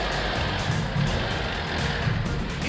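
A Jeep Wrangler crawls over rocks off-road, its engine a steady, loud low rumble held close and unbroken throughout, with no voices over it.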